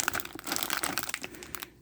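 Crinkling of a double plastic bag wrapped around the canopy part of a G.I. Joe Classified HasLab HISS tank toy, a quick close burst of crackly rustles lasting under two seconds.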